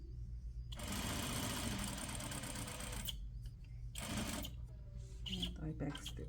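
A sewing machine stitches a set-in sleeve seam in two quick whirring bursts, the first a few seconds long and the second brief, with a voice talking quietly around them.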